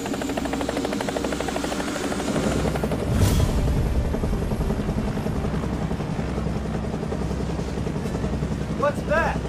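A helicopter's rotor thumps loudly and steadily as it lifts off in an action horror film, a close rhythmic beat running under shouted voices.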